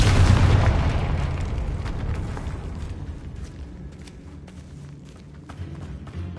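A Confringo spell explosion in Hogwarts Legacy, a loud deep boom at the start that rumbles and slowly decays over several seconds, with faint debris crackles trailing off.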